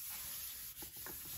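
A gelli print being burnished with a baren, pressed and rubbed down to make good contact: soft, continuous scraping and rubbing with a few firmer strokes near the end, close and fairly quiet, with no talk.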